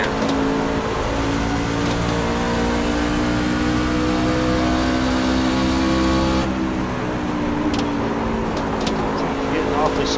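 A racing truck engine in the iRacing video game at Rockingham, held at steady high revs throughout with a continuous loud drone and a slight change in tone partway through.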